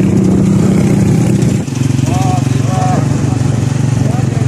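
A motorcycle engine runs steadily and loud up close, with a droning idle that shifts pitch partway through and a few faint higher tones over it.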